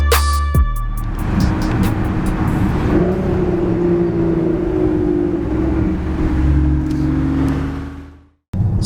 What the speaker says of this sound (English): I've just seen a V12 Zagato, crazy beautiful green car. It's about to accelerate up behind us